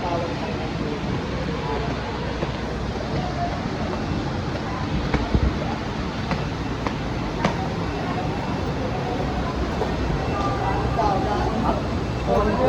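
Riding Manila's MRT train, a steady dense rumble and roar of the carriage fills the clip, with occasional clicks and knocks, while people talk throughout.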